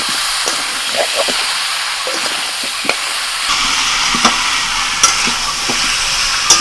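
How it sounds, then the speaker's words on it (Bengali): Chicken and vegetables stirred lightly in a pan for a chicken stew, with a steady sizzle and hiss under repeated soft scraping and clinking strokes of the utensil, close and continuous with no talk. "সবজি আর চিকেনটা যদি একটু হালকা করে নাড়াচাড়া করে নেওয়া হয়"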